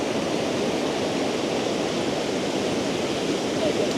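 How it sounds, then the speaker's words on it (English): A distant waterfall in snowy Yosemite Valley in winter gives a steady, broadband roar that holds even and unbroken throughout, with no voices over it. "obviously the waterfall way back there"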